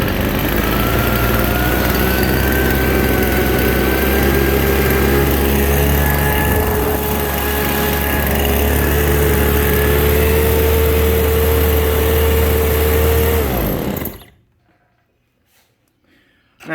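A Craftsman B250 gas leaf blower engine runs steadily at close range with a loud, sustained whine and hum, then cuts off abruptly, leaving near silence.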